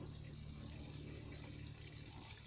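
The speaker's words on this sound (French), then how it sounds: "on va procéder à un petit arrosage, bien copieux pour les lancer" Generous watering of freshly transplanted tomato plants in a greenhouse, a steady continuous splash and hiss of water pouring onto soil, close and even throughout.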